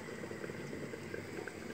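Water boils in a pot with soft, continuous bubbling and faint pops, fairly quiet and steady, with no voices.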